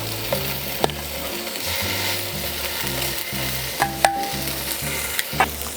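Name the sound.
wagyu beef searing in a hot dry pan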